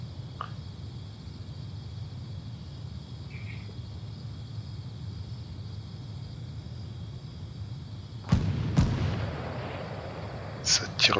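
Distant gunfire in Fortnite, a couple of sharp cracks late on and another burst at the very end, over steady low background ambience with a few faint chirps.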